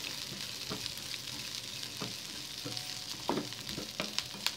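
Corn kernels tipped into a hot frying pan for Indian-style white sauce pasta with vegetables, giving a steady close sizzle broken by several sharp crackling bursts and stirring scrapes, with no talking.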